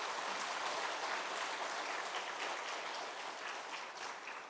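A church congregation at a thanksgiving service for a new building claps for its members, a broad sustained wash of applause from a large crowd, steady and fairly loud before easing off at the end.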